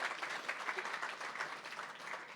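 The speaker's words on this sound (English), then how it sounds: "we can give that a round of applause" Quiet, distant round of applause from an audience at a light rail federal grant press briefing, steady soft clapping throughout.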